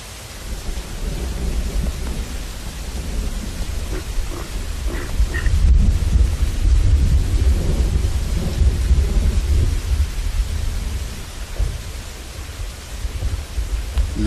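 Steady downpour of freezing rain with rolling thunder rumbling through it, a dense wash of rain hiss over deep low booms that swell to a louder crack midway before easing back, with no voices.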